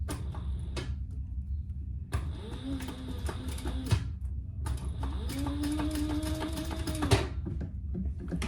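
Sewing machine basting a pouch zipper in two runs of rapid rhythmic stitching with a whirring motor, separated by a pause, each run ending in a sharp click, close and clear.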